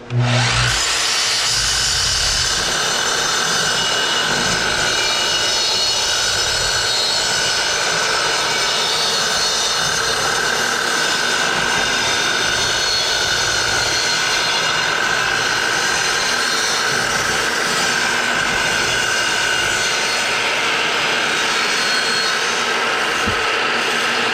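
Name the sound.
power saw cutting thick salvaged barnwood boards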